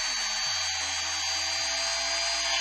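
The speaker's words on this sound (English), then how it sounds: "We need to get the wings off, which is fairly easy with this Dremel" A Dremel rotary tool cuts the plastic wings out of a retro console shell, a steady high-pitched whine running close and continuous, its pitch dipping slightly as the bit bites in.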